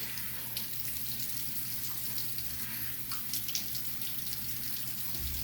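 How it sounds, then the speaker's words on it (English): Tap water running steadily into a bathroom sink at low pressure while someone rinses their face, a soft continuous splashing hiss with occasional small splashes and no talking. "just washing my face"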